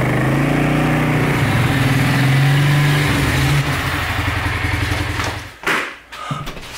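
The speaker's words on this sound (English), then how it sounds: "I don't know how happy city folk are with riding quads around the neighborhood." A quad bike (ATV) engine runs steadily and close while being ridden around a neighborhood, its loud mid-pitched drone holding level, then the tone shifts and the engine briefly dips and surges near the end.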